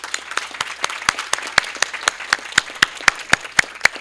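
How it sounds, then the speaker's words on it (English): Applause rises from a breakfast event audience thanking a sponsor: a thin, nearby patter of a modest number of individual claps, distinct sharp hits at an uneven rhythm for about four seconds, with no talking. "Let's give them a round of applause."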